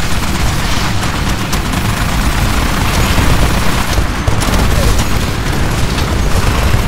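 An automated turret fires on enemies in the video game Titanfall, a dense, continuous roar of rapid gunfire and booming impacts lasting several seconds, loud and unbroken, with no talk.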